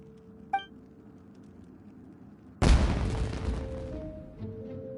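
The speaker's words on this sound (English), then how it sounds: "Was that an explosion? It sounded like fireworks." A video-game fireworks blast from Genshin Impact erupts as one sudden loud boom midway, then a crackling rumbling tail that fades, after quiet game ambience with a short chime.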